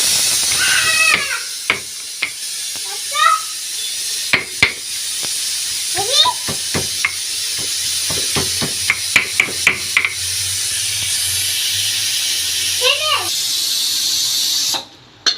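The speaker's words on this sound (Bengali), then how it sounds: "একটা কাঁচামরিচ লবণ দিয়ে আমটাকে থেতো করে নিয়ে মাখবো" Unripe mango is crushed by hand with green chili and salt: scattered dull thumps and knocks, some in quick clusters, under a person talking throughout.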